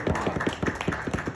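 Applause for Bunty Jatt, short rhythmic clapping from a nearby crowd lasting just over a second.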